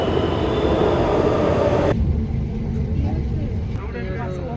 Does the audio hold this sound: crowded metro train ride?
yes